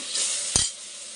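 Masala with tomato fries in a pan for Muslim-style chicken biryani, a steady close sizzle broken by a single brief scrape or clink of a spoon against the pan.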